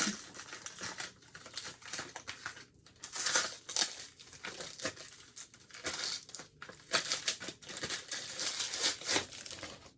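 Plastic packaging for an iPhone 12 Pro Max case being opened by hand, with close, irregular crinkling and crackling, sharp tearing bursts and handling noise throughout.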